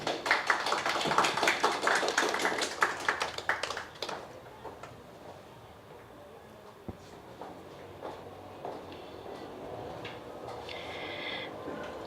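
Applause from an audience welcoming a geologist to the stage at a university lecture: dense clapping for about four seconds, then thinning to scattered claps and faint room noise.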